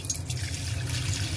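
Milk pours steadily into a pan on a gas stove for tandoori chai, a continuous close liquid stream and trickle with no talking.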